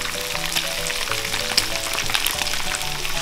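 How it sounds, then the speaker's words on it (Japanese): Small bite-sized pieces of karaage chicken fry in hot oil with a steady, dense sizzle and crackle, close and continuous, while soft background music plays. "どんどん揚げていきましょう。"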